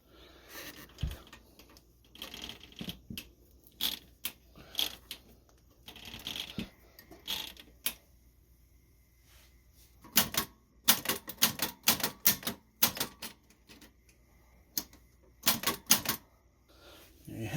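An antique L.C. Smith No. 3 typewriter mechanism is wound and worked by hand, producing sparse, close mechanical clicks and clacks in irregular clusters, with quieter stretches between them.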